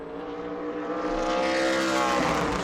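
A race car on a qualifying lap at New Smyrna, its engine a steady, sustained roar that swells as the car comes around turns 3 and 4, heard from a distance with no talk.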